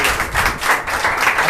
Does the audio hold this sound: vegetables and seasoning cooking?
no